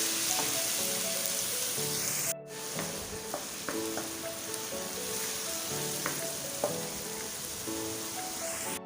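Finely chopped onions sizzle steadily in about two spoons of hot oil, a dense continuous crackle close by with occasional spatula scrapes and a brief break early on.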